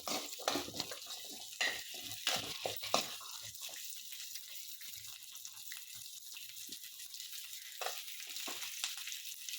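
Masala spices roasting in oil in a pan on a stove, a soft sizzle with scraping stirs and light clatter, fairly quiet and close, no talking.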